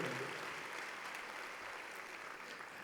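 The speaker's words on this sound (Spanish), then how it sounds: "dele un fuerte aplauso al Señor" A church congregation applauds during a sermon, a steady wash of clapping that stays fairly quiet and distant throughout without a clear break.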